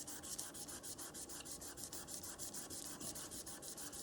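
Polymer clay veneer is burnished by hand, giving a close, soft rhythmic rubbing, quick even strokes repeating steadily and fairly quiet.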